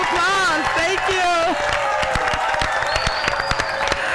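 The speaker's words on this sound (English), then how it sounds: "Give Liv's Table, Olivia Uhashi, another round of applause" Crowd applause and cheering for a Social Impact Award winner at an outdoor beach pitch event, dense clapping with whoops under a voice speaking over it, loud and steady throughout.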